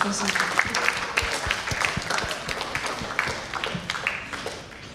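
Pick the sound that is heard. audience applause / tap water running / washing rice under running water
audience applause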